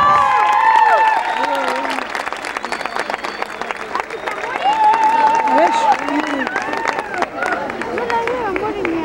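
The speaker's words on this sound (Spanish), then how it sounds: "¡Fuerte el aplauso para ella!" Audience applause at a lively Argentine stage event, scattered clapping and cheering mixed with loud chatter, shouts and music-like tones, fairly close and busy throughout.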